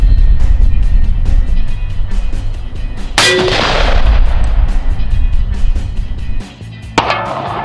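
A .357 revolver firing 158-grain hollow-point rounds at body armour, one loud sharp shot near the middle followed by a second crack near the end, over steady loud background noise.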